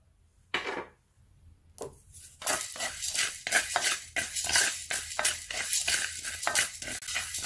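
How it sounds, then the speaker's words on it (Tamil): Coriander seeds and cumin dry roasting in a pan, stirred with a rhythmic series of dry scraping and rattling strokes, close and fairly steady after a few sparse opening scrapes. "முக்கால்வாசி கொத்தமல்லி வறுத்தோடனே அது கூடவே ஜீரகத்தையும் சேர்த்துக்கலாம்."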